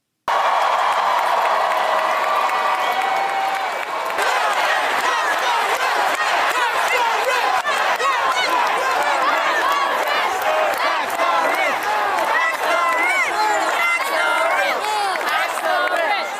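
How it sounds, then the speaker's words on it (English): A large political rally crowd in New York chants in unison, with loud, continuous cheering and rhythmic shouting filling the space close up throughout. "This is a rally with Mamdani and the New York governor with the crowd chanting,"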